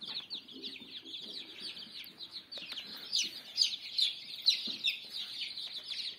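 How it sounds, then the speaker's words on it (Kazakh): Newly hatched chicks fresh from an incubator on a poultry farm peep continuously in a dense, high chorus, fairly faint and close, with no talk. "бұлар бүгін шыққан балапандар"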